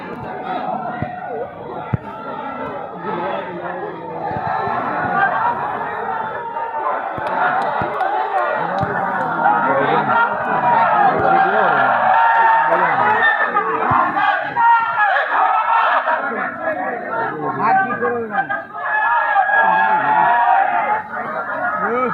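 A large crowd at a political rally shouts slogans together, loud and continuous, with overlapping voices and chatter swelling throughout.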